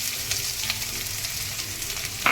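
Chopped onions and cumin seeds frying in hot oil, a steady close hiss of sizzling with faint crackles and a sharper pop near the end, and no talking over it.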